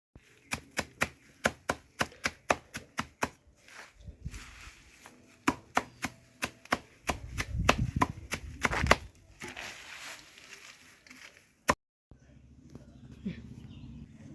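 Leaves are chopped for green manure, a quick run of sharp, evenly spaced blade strikes up close, then scattered hits amid rustling and background bird calls.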